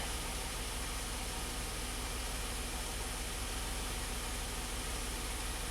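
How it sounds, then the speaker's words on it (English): A Hyundai car engine idles too high after repairs, a steady, dense, unchanging hum and rush heard close up with no talking. "engine running"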